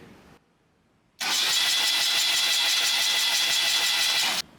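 Brief click and pause, then a 1977 BMW R75/7 motorcycle engine cranking steadily for about three seconds with a rapid rhythmic churn, cutting off abruptly without catching.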